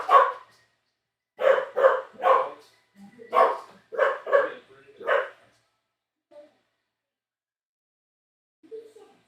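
A dog barks loudly and close by in a quick series of about seven sharp barks, some in clusters, before the room falls quiet apart from a couple of faint later sounds.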